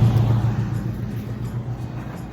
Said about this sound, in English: You can hear pickup trucks and big trucks coming by